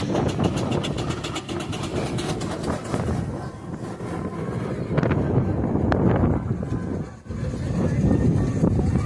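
A 1906 Northampton-built traction engine rolling past at a rally, a heavy rumbling, chuffing mechanical drone with wind buffeting the microphone, steady and fairly close throughout.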